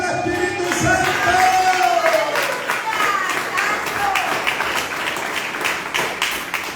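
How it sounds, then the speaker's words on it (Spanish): A church congregation applauding, crowd clapping building steadily under a loud sustained voice calling out over it, the claps growing more distinct as the voice drops away. "Dale otro aplauso al Espíritu Santo"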